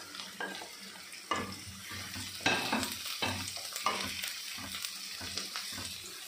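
Onion, ginger, green chili and curry leaves sautéed in a pan for a vegetable stew, a continuous sizzle broken by repeated scraping stirs of a spoon, close and fairly loud.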